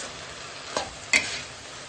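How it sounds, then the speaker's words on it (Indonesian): Fried instant noodles with shrimp being stirred in a pan, soft scraping strokes over a low sizzle, with two brief louder scrapes standing out from the steady background. "kita aduk terus sampai benar-benar merata"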